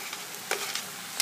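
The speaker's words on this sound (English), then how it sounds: "Stir all that together and let it cook down for another 10 minutes." Fresh chopped garlic gets stirred into sizzling vegetables for an oxtail ragu, with a close, steady frying hiss broken by a few sharp scrapes of the spoon against the pan.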